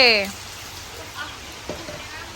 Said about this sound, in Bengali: ভালো বৃষ্টি শুরু হয়েছে